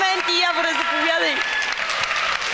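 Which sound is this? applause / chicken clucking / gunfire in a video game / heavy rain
applause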